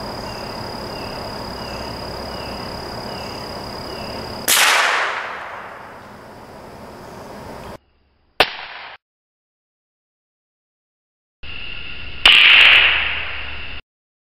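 A Marlin Model 81 rifle fires a single loud, sharp shot aimed to ricochet off a cinder block, with a decaying tail. A brief pop and another burst follow a few seconds later, and no one speaks.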